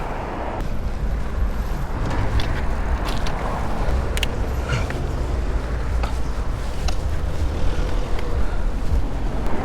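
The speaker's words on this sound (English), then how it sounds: "Where's this crazy amount of traffic just suddenly come from?" Road traffic rushing past near an e-bike rider on a UK road, a steady loud broadband roar of passing vehicles with wind buffeting throughout and no talk.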